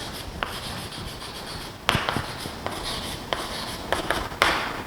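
Chalk or marker writing on a board while solving a differential equation in a maths lecture, close scratchy strokes with sharp taps at irregular intervals, no talking.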